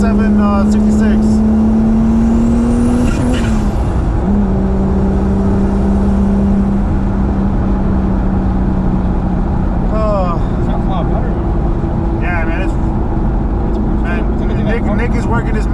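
A turbocharged VR6-swapped B5 Audi A4 on the road, a loud steady engine drone that rises and shifts pitch as it accelerates, with wind and road noise and occasional talk over it.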